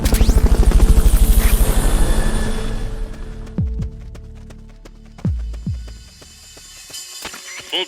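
A helicopter from the video game Metal Gear Solid Peace Walker throbs with rapid, loud rotor beats that fade into a lower hum, broken by a few sharp clanks and thumps.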